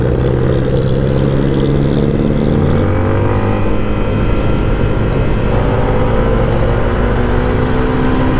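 A jeepney rumbles past on a road, its loud, close engine droning with a shifting pitch as it goes by, with no voices over it.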